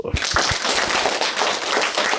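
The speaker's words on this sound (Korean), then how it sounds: "박수" An audience at a spiritual lecture breaks into loud, dense applause, starting with a few sharp claps and swelling into steady, crowded clapping that stays close and continuous.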